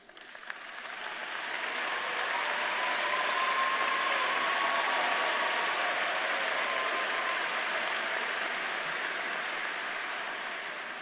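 Sustained applause fills a university commencement ceremony as honors college students stand to be recognized, a dense, steady roar of clapping that swells quickly and holds loud for about ten seconds without voices.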